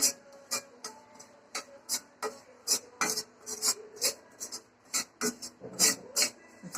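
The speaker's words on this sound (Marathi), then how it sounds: "ही साबुदाण्याची पावडर करून घेतली ती ह्या तुपामध्ये आपण परतून घ्यायचंय तुपाने चांगली भाजून घ्यायचे" Powdered sago roasting in ghee in a pan is stirred in a steady run of short, dry scraping strokes, close and fairly quiet.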